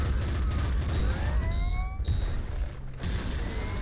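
Dense, continuous bursts of explosions and gunfire in the video game Nuclear Throne roll over one another, loud and busy, with whistling tones and synthetic effects threaded through.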